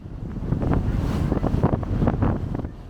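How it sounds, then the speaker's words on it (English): Wind buffets the microphone aboard the small Bundeena ferry crossing a bay near Sydney, a loud steady rumble with gusty swells and the wash of water and boat engine beneath it, and no voices. "there is a wind that comes in straight through the heads down into the bay"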